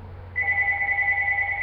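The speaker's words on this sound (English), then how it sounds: "Oh, somebody's calling on the phone." A telephone rings with a steady electronic tone that starts after a short pause and holds clearly, close and without talk over it.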